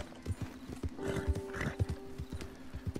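Horse hooves clopping at a steady riding pace in Red Dead Redemption 2, close and fairly loud, with a brief whinny-like tone partway through.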